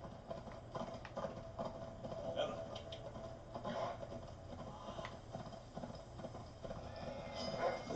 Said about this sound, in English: I don't even know how to make this horse jump.